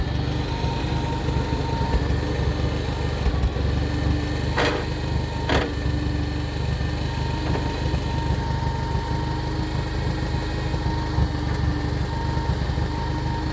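A lawn mower engine idles steadily at low speed on a farm, a continuous close hum running unbroken through the whole stretch, with a couple of brief sharp clicks partway in.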